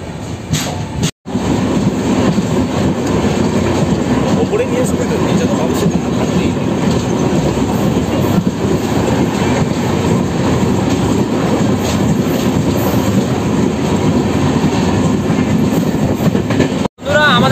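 Kanchan Kanya Express LHB coach running at high speed between Siliguri and Naxalbari, heard from inside the carriage as a loud, continuous rumble with rail clatter and a brief drop partway through.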